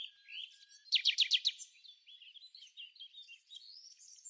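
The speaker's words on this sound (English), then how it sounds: "Let's meet the red-billed Quelea, the most numerous bird in the world." High, thin red-billed quelea chirps and twittering in Botswana, with a quick run of five sharp repeated notes near the start, then scattered squeaky calls continuing.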